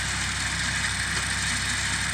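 A Massey Ferguson 245 tractor engine idles in a steady, unbroken drone with even rough vibration, close and loud, with no talking.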